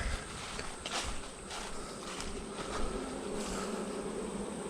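Honey bees from a newly installed swarm working over comb in a hive, a soft, steady buzzing hum close by with faint knocks and rustles, no voices.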